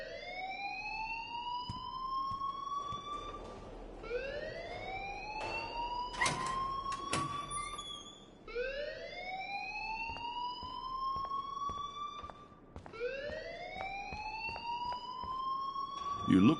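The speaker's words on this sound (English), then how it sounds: "please turn off that alarm since that's your job" A school alarm in Life is Strange wails in repeated rising sweeps, a siren-like tone climbing over and over for the whole stretch, loud and near, with bursts of clatter in between and faint voices in the background.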